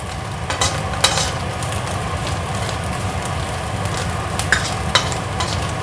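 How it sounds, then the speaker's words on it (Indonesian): Dried shrimp sautéing in hot oil in a pan, a loud dense sizzle with sharp spatter pops and a few scraping stirs of the utensil, close up and uninterrupted. "Aku mau numis ebi dulu"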